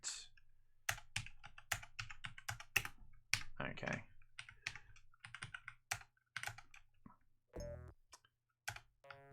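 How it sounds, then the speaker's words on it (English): Rapid computer keyboard typing while game buttons are mapped for a Commander Keen 5 mod: dense, close clicks and key taps in irregular bursts, with a brief spoken word partway through. "Just check I've got my keyboard buttons mapped how I like them."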